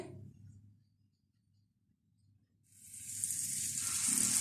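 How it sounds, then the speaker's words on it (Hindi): Aloo tikki coated in besan batter hits hot oil, starting quiet and then swelling into a loud, steady, bright sizzle that continues to the end. "आहिस्ता आहिस्ता इनको फ्राई करते जाएंगे।"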